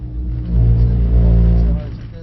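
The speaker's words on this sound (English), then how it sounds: "turn in with a blip from the throttle" A Mercedes car engine gets a quick throttle blip on turn-in, a low rumble swelling briefly and then settling back, with talking over it.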